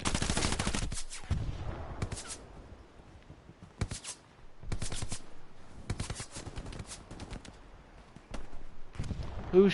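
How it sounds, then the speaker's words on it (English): Gunfire in the World War II shooter Hell Let Loose crackles in repeated rapid bursts separated by brief lulls, some shots sharp and near, others more distant. "Oh, someone's really shooting me."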